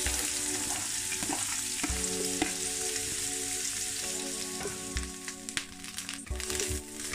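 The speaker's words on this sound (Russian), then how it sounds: "пассирую, тушу морковь" Carrots sauté in oil in a frying pan for Korean beef khe, giving a constant close sizzle and crackle with occasional soft scrapes and stirs against the pan.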